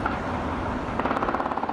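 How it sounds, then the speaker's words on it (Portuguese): Gunfire from a shootout near Morro da Piedade, recorded by residents of neighbouring districts: a rapid run of sharp, distant-sounding shots in the second half over a continuous background rumble, with no voices. "Os tiros foram gravados por moradores de bairros vizinhos ao Morro da Piedade."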